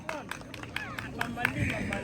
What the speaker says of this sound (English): let's clap for Mamali